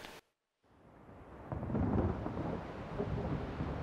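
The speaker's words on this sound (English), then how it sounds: "Generating lightning." Thunder in the Halo game, a brief silence and then a deep rumble swelling to a loud peak and lingering as a low roll.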